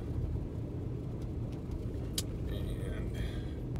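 A car idles and warms up in the early morning at a camp on the Paria plateau, a low steady engine rumble with a voice talking over it.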